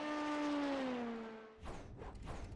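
Dallara LMP2 prototype race car in the iRacing sim: a steady engine tone gliding slowly downward as the car settles, then breaking into rougher bursts of revving and whooshing, moderately loud throughout.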